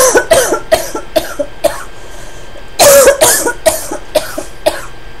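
A person coughs up close in a rapid series of sharp, loud bursts, with a heavier cluster partway through and no talking.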